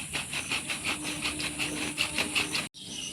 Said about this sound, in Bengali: আরও 5 মিনিটের মতন একইভাবে নাড়াচাড়া করব বোতলটাকে।